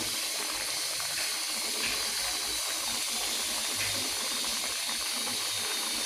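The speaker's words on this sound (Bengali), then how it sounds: "পুরোপুরি বলক চলে আসছে" A pan of okra bhaji comes to a full boil, a continuous loud hissing, bubbling wash with faint rattling underneath, steady throughout.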